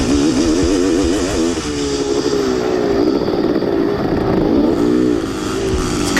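A Yamaha DT dirt bike racing a cross-country course, its engine droning loud and close with the pitch rising and falling as the rider works the throttle, continuous throughout with no talk.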